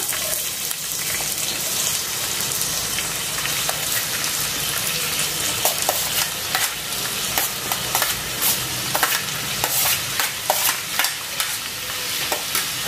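Finely chopped onion frying in oil in a pan with whole spices and curry leaves, a dense continuous sizzle broken by frequent sharp spatula scrapes and clicks, close and loud with no talk.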